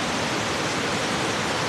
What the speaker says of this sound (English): These massive waterfalls surrounded by the Argentinian rainforest are perfect to energize your body and clear your mind.